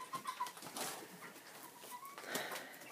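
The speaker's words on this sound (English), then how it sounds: "Here are some of the young pullets. They're out free-ranging full-time now." Young pullet chickens free-ranging full-time on a small family farm give soft clucks and coos outdoors, faint and scattered against an open-air background, with no voices.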